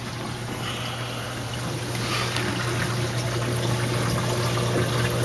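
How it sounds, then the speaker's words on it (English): Water trickles and splashes steadily over bio balls in the sump filter under a 150-gallon aquarium, with a constant low pump hum beneath it. "the water's flowing down over the bio balls, and my water level is just above the matrix"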